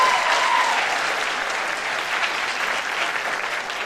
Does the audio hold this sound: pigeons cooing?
no